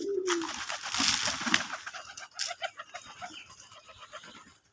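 Native domestic pigeons on a pigeon farm coo and flutter close by, with a burst of wingbeats and busy cooing, then softer rhythmic calls trailing off.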